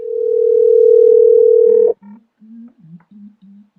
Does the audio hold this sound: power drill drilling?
no